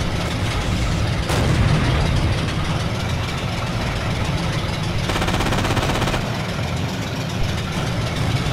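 Machine gun fire in the World War II shooter Forgotten Hope 2, at the Sidi Rezegh desert battle: loud, continuous rattling bursts mixed with heavy engine rumble, with no talk.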